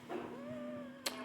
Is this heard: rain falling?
no